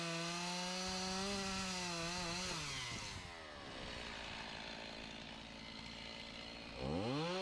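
Chainsaw cutting a hedge tree trunk into fence posts outdoors, loud and close, with the engine revving and bogging as the chain bites through the wood, then dropping to a rough idle before revving up again near the end.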